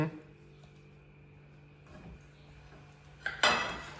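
Peeled potatoes tumble into a pan in a home kitchen during chicken scaloppine prep, a loud clatter of pot and utensil near the end after quieter kitchen clinks, with people talking nearby.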